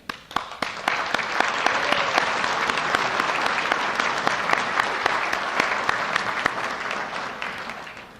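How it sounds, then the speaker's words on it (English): A full room applauds at a charity wine dinner, dense and even clapping that runs steadily throughout without a break, no voices on top. "Let us take a moment now and applaud all of you here tonight"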